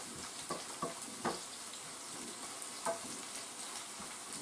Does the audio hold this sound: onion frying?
yes